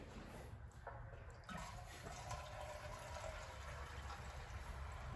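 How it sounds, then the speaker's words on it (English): Drained gasoline poured back into the fuel tank of a 1970 International Cub Cadet 127 garden tractor gives a steady, close liquid gurgle and splash that starts after a brief clunk and keeps running. "Let's see about putting the gas in this. This is the gas I drained out of the tank."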